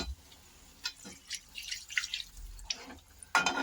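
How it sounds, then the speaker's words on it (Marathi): Water poured into a pan of sautéed potato and pea masala for aloo matar pulao, heard as faint, scattered splashes and drips over a quiet background. "आता त्याच्यात आपण पाणी टाकायचे"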